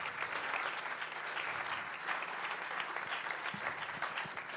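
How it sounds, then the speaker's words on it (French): Steady applause from an audience, a dense continuous patter of clapping at moderate volume without pause. "On peut les applaudir, on peut."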